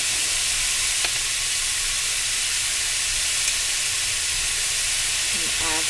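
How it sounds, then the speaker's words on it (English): Beef chunks seasoned with house seasoning sizzle loudly in a pan while being stirred for canning in broth. The steady frying hiss is continuous and close, with faint clinks. "I know that sizzling is probably loud."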